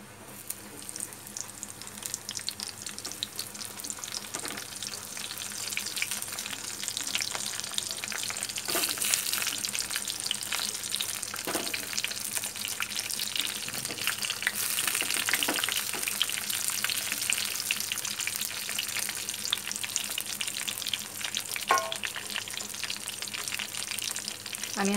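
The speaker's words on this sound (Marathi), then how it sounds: "आता मी वांगी टाकते त्यामध्ये." Brinjals (eggplants) frying and being stirred in a pan of spices, giving a continuous soft sizzle with scraping stir sounds, steady and close without talk.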